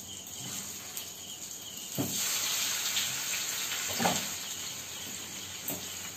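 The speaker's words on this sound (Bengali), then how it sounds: "এবারে আলুগুলোকে ফ্রাই করে নেব।" Potatoes frying for biryani in a pan of ghee and butter, a steady close hiss and sizzle running throughout with a few brief louder pops and spits.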